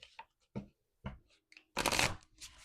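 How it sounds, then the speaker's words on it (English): Playing cards are shuffled in short riffling bursts, a few brief ruffles followed by a longer, louder cascading riffle near the end, close and crisp in a quiet room. "sometimes it wants to shuffle one way, but then it doesn't want to shuffle the other way"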